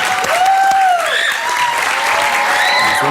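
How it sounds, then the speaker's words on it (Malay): A television studio audience claps loudly and steadily for a comedy host, with whoops and whistles rising above the applause. "Ya, tepukan untuk saya."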